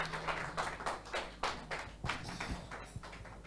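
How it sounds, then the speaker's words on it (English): A church congregation claps hands during a Mother's Day service, a scattered run of claps of uneven rhythm sounding moderately close over a low room hum, with no talk over it. "Please clap your hands for her."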